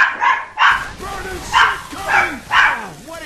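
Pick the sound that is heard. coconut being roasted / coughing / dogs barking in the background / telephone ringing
dogs barking in the background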